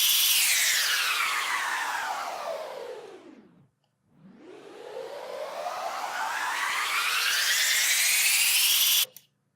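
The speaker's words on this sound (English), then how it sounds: "We have downfall effects, which I actually really like because they pretty much all have this up-down knob." A Serum dubstep downfall effect sweeps steadily downward into near silence, then climbs back up in a long rising whoosh before cutting off sharply; the sound is loud and synthetic, with no voices.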